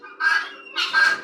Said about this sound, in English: of course our chickens in here